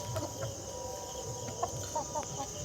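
Domestic desi chickens settle in their coop at night, giving faint, soft scattered clucks and murmurs over a quiet hiss with a steady insect-like hum in the background.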